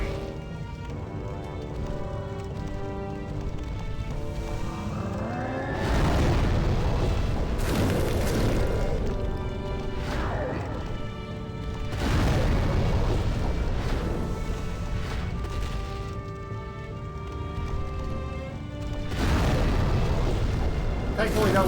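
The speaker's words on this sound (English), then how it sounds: "he will cause explosions" Booming explosions from a boss attack in Demon's Souls, several heavy bursts arriving in waves over a sustained musical score, with someone talking over them.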